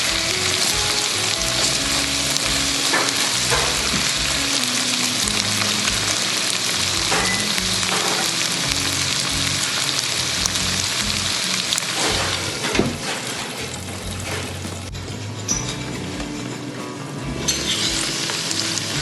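Garden okra frying in oil in a covered pan gives a steady, loud, dense sizzle and crackle throughout, with no voices.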